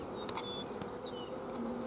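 Honeybees hum in a continuous buzz around an opened hive, with a few brief, faint chirps rising above the drone.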